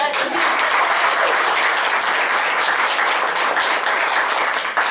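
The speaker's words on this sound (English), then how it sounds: "I think we should all give John a big round of applause" An audience at an annual meeting applauding together, a dense sustained wash of clapping from many hands that holds steady for the whole stretch.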